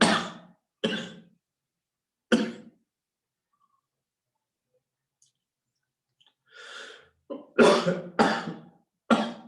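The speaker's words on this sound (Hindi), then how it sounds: "सर्दी बहुत है इसलिए थोड़ी खांसी आ गई।" A man coughing in sharp, loud bursts: a few single coughs spaced apart, a long quiet gap with a breath or throat sound, then a rapid cluster of harsh coughs close to the microphone.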